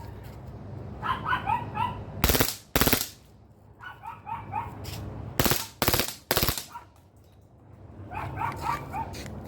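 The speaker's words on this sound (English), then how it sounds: "This one's for those boys that love to shoot Glocks with switches." A WE-Tech airsoft Glock fitted with a switch fires in rapid full-auto bursts. Several loud, sharp volleys stand out, and a dog barks and yips repeatedly in between.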